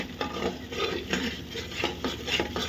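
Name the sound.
stirring turmeric spice masala in a pan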